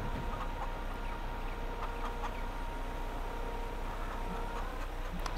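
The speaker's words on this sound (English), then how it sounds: "So we got those chickens fed." Chickens cluck in the Farming Simulator 22 game, soft scattered clucks and chatter sitting over a dense, steady background of game ambience with no talking.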